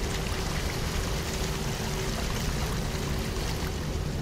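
Rising water in The Land of Pain rushes and pours steadily, a dense, close, continuous flowing wash with no pauses.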